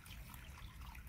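Water drains out the bottom of a potted plant after heavy watering, a faint steady trickle running through the whole short stretch.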